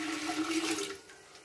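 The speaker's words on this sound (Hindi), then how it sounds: "ये 1 लीटर पानी है जो हम इसमें डाल रहे हैं" About a litre of water pours into a pot holding roughly a kilo of frozen bone-in beef for shahi khichda, a steady close splashing rush with no voices, easing off in the final half second.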